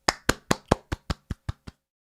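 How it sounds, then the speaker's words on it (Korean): Nine sharp hand claps in a steady, slightly quickening rhythm, close and loud, alone with no talking, fading a little toward the end. "박수!"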